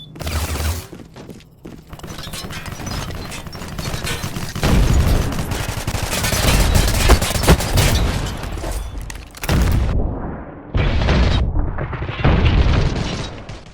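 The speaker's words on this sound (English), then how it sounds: "Sound of the weapons are really well done, they're pretty typical for a first-person shooter game" Rapid weapon fire in a first-person shooter video game, loud bursts of gunshots and booming blasts in quick clusters with short pauses between, close and without talk.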